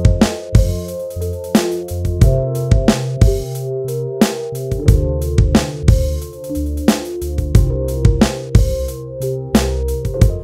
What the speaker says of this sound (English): On track 4, I'm recording a bassline using this analog synth here.